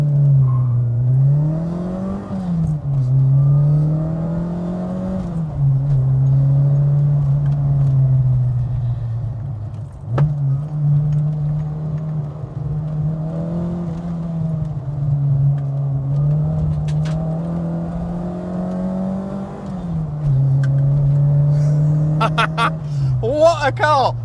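A Fiat Strada 130 TC Abarth accelerates along a road, its engine note climbing and settling through several gear changes, steady and prominent from inside the car, with occasional speech over it.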